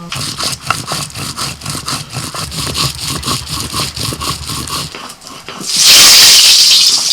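Potatoes frying in oil for an Adivasi-style duck meat dish: several seconds of rhythmic scraping, then a sudden loud, steady hissing sizzle for the final seconds.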